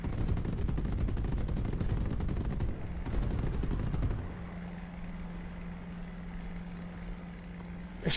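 Rear gunner's machine gun fire from a Stuka in the War Thunder flight combat game, rapid continuous bursts over steady engine drone for about four seconds, then the engine hum continues alone.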